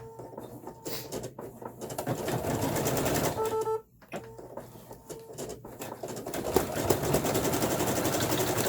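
A sewing machine stitches around a bag to close it, a rapid, whirring mechanical run with brief pauses and one clear stop partway through, close by, with no speech.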